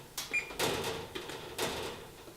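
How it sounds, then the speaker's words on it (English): Quiet close-up clicks of oven controls being pressed to preheat, with a short electronic beep early on. "Oh, and I'm gonna preheat the oven."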